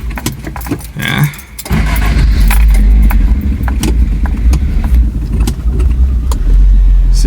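1977 Honda Civic CVCC wagon engine started with no choke: keys jangle, then the engine catches and settles into a loud, close, steady idle.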